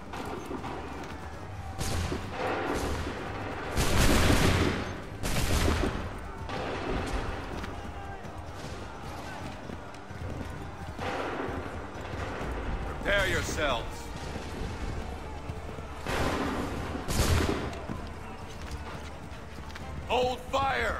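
Musket volleys crack in a colonial battle at Lexington and Concord in Assassin's Creed III, several loud broadband bursts spaced a few seconds apart, with shouted commands and battle noise between them.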